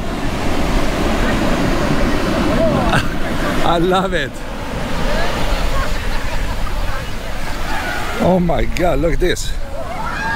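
Large ocean waves break and wash up the sand at Manini'owali Beach in Kua Bay, Hawai'i, a loud continuous roar of surf close by, while excited voices talk over it.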